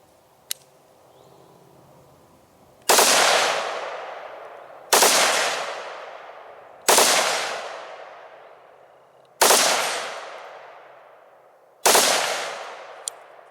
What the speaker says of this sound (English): Two to 3 round bursts with a good pause in between.